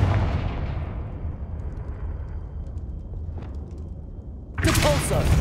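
A Confringo fire spell blast in Hogwarts Legacy, a loud deep boom that rumbles and decays over several seconds before a second sharp burst cuts in near the end.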